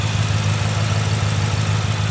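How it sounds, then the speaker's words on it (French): A tuned BMW M5 F10 with its 4.4-litre V8 biturbo, downpipe and stage tune idles steadily, a deep continuous rumble with a throbbing low pulse and broad hiss, close and unbroken. "je laisse tourner un petit peu le moteur, histoire de refroidir un peu."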